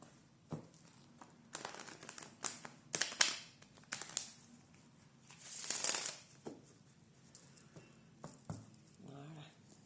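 Oracle cards from the Oracle des Miroirs deck shuffled by hand, heard as irregular bursts of papery rustling and riffling that come and go, close up and alone with no talking.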